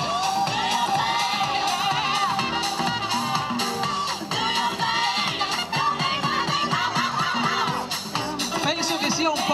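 A crowd at a Bella di Marca beauty pageant in Conegliano cheers and applauds loudly, a sustained roar with whoops and shouts, while music plays underneath throughout.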